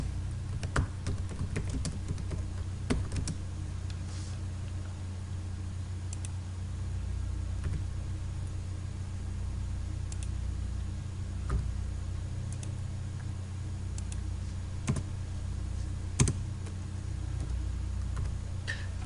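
Typing on a computer keyboard while entering text in CorelDRAW, with sparse scattered key clicks, denser at the start, over a steady room hum.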